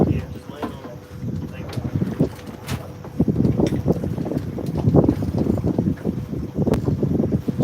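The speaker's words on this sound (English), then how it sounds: "Sorry guys, it's gonna be windy until I get over here and spin us around." Wind gusting over a lake while fishing from a boat on Santee, loud blustery rumble buffeting the microphone in uneven surges, with a voice speaking intermittently underneath.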